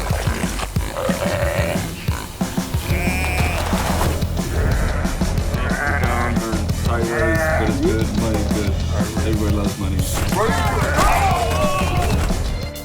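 A goat in the video game Goat Simulator 3 lets out repeated loud, wavering bleats over busy game noise and crashes.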